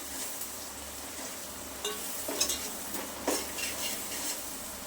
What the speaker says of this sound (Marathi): सुके मसाले सुद्धा तेलामध्ये दोन मिनटं परतायचे